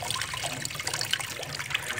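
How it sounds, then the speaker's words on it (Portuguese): Water runs steadily out of a washing machine's lowered drain hose, a continuous close splashing and trickling with no voices. "Às vezes acontece da sua máquina de lavar começar a encher e ao mesmo tempo começar a jogar água fora."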